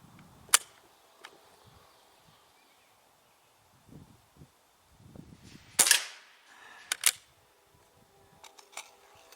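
A Beeman QB78 .22 caliber air rifle fires at a 10-meter range, giving a few sharp, fairly faint cracks and clicks at uneven intervals over quiet background rustle.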